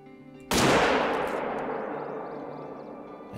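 A single loud rifle shot fired at a black bear in theHunter: Call of the Wild, a sharp crack followed by a long rolling echo that fades slowly over the next few seconds.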